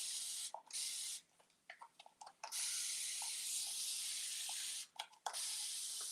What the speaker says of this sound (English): I'm watering them down a bit, spraying some water on them